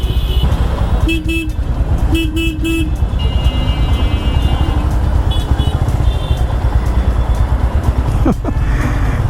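Busy city road traffic on a hot day with a motorbike halted beside it: a loud, steady rumble of engines runs throughout, broken by several short car horn toots early on and a brief sharp sound near the end.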